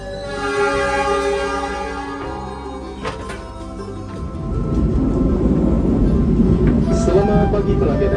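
The Kertajaya passenger train on the line toward Jakarta sounds a long, loud horn, then settles into a heavy rolling rumble of wheels and carriages as it runs, close and continuous.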